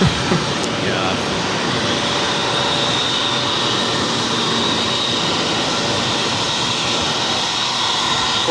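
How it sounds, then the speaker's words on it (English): A Spirit Airlines Airbus A320neo jet at Boston Logan airport roars with loud, continuous broadband engine noise that holds steady throughout, heard from nearby outdoors. "Another Spirit A320 Neo."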